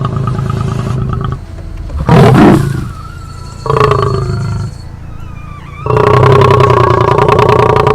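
A male lion on an African safari growls and roars very close and loud in several separate bursts, with deep rumbling tones and quieter pauses between outbursts.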